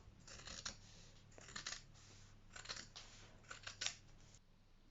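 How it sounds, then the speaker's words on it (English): Scissors snip through curtain fabric to remove the eyelet tab, five or six quiet crisp cuts in an uneven rhythm, close and soft in a quiet room. "So the first stage is to cut the eyelet tab off."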